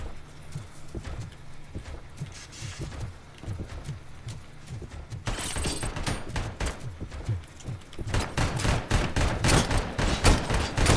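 Gunfire from the Robocop video game, rapid repeated shots hammering in steady bursts that grow louder and denser toward the end.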